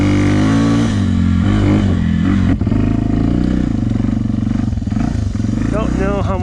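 Yamaha TTR 250 dirt bike engine revving with quick, snappy throttle blips, loud and close, the harmonic engine tone rising and falling over a steady idle, with someone talking over it.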